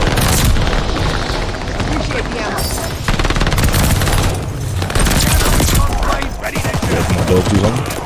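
A sticky bomb blast in Call of Duty: Vanguard amid close, loud gunfire, with rapid bursts and a heavy boom cutting through the chaotic firefight.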